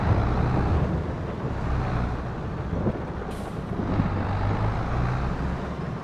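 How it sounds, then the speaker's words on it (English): Tractor engine from a farming video game rumbles steadily as it drives slowly in and parks after a sunflower harvest in rainy conditions, a low continuous drone with a brief hiss partway through, no voices. "Going to bring this tractor in."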